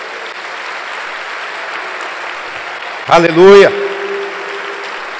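A Sunday church congregation claps continuously in a steady wash of applause, interrupted midway by a single loud shouted exclamation from a voice.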